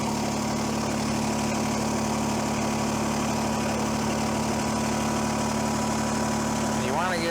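A Kubota BX23S compact tractor engine idles steadily with a constant low mechanical hum and rattle, close by, with a brief rising change near the end.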